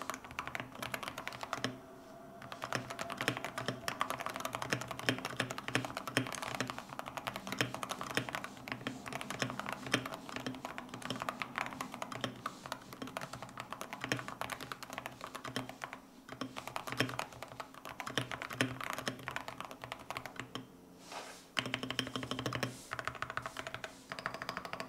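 Typing on a Wooting 80HE keyboard: continuous, rapid key clicks and taps at close range, with brief pauses, fairly quiet and with no voices.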